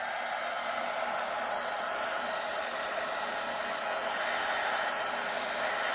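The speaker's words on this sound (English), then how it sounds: "I'm going to go in with my heat tool. I'm going to use it at the lowest setting." A heat tool blows steadily on its lowest setting to dry paint on a painted background, giving a constant, close, even airy roar with no pauses and no talking.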